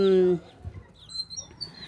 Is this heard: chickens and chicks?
yes